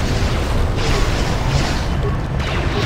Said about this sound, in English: Keep throwing those stupid grenades.